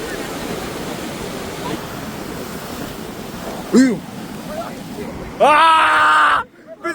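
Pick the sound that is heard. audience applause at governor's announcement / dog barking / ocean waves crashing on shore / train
ocean waves crashing on shore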